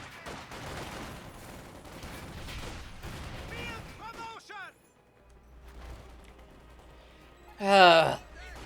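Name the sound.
gunfire in video game Company of Heroes 2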